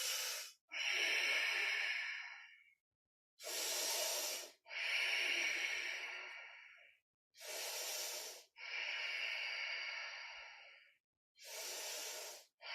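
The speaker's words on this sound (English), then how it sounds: "Nice slow breaths." Slow, deep breathing during a seated chair yoga session comes in four close cycles, each a short sharp inhale followed by a longer, gradually fading exhale, with silent pauses between.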